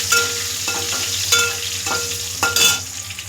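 Spices for sambar tempering sizzle in hot oil, a steady crackling hiss with several louder bursts of spattering as ingredients hit the pan and get stirred, close up and with no talking.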